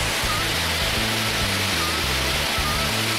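Goose down pours from a conveyor into a truck with a continuous waterfall-like rushing hiss over a low, droning machinery hum, steady and fairly loud throughout.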